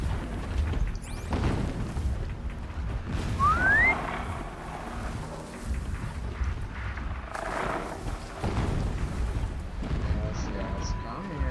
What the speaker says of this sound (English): Pay no mind to the giant explosions of death?